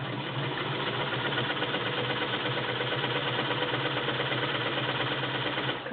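A serviced Singer 128 vibrating shuttle sewing machine runs at a steady pace, its rhythmic mechanical clatter and hum continuous and fairly loud, then stopping at the very end.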